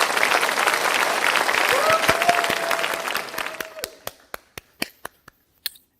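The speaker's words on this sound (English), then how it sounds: "please give a round of applause to" An audience at a closing ceremony applauds third-place winners, dense clapping that swells then thins to a handful of scattered individual claps, with a brief tone underneath.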